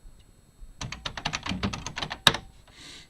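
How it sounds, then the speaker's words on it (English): Rapid keystrokes on a computer keyboard, a quick burst of irregular clicks with one sharper key strike near the end, close and clear with no one talking. "typing, I'm telling you."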